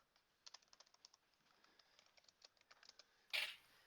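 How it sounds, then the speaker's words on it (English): Fierce typing on a computer keyboard, with quick, uneven bursts of clicking keys close by, ending in a louder clack. "where's that fierce typing coming?"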